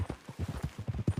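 Horse hooves clip-clop at a steady walking rhythm in Red Dead Redemption, a quiet run of soft, closely spaced hoof falls with no voices.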